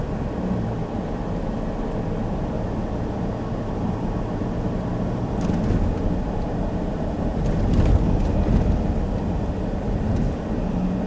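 Cabin of a RAM TRX pickup truck crossing train tracks, a steady road and engine drone with scattered small rattles and knocks from the interior trim, louder bumps near the middle, no talking.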